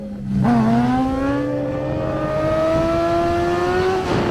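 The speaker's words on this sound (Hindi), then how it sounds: "कराची के सुपर स्टंटमैन अली सुमरू, जो हैवी तरीन बाइक्स पर दंग कर देने वाले नामुमकिन करतब को भी मुमकिन बना देते हैं।" A heavy motorbike ridden for stunts revs up from idle, its engine pitch climbing steadily over a few seconds, loud and close with no talk.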